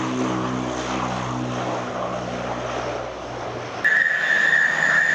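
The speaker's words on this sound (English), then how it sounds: "powered by a pair of Rolls-Royce Kind turboprop engines, which drives a pair of four-bladed Doughty Rotol propellers" Breguet Atlantic anti-submarine aircraft with twin Rolls-Royce turboprops and four-bladed propellers passing at the 1966 Farnborough Airshow, a droning, buzzing engine roar with propeller hum, shifting to a higher whining tone near the end.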